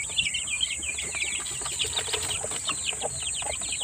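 Chickens in a manokan area cluck and squawk in busy overlapping high calls, with a constant high tonal hum and occasional wing flaps.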